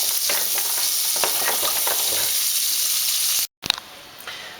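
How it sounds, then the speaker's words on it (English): Carrots dropped into melting butter in a pan, a loud, close, continuous hiss of frying that cuts off abruptly, then a couple of clatters as it resumes more quietly. "And then into your melting butter"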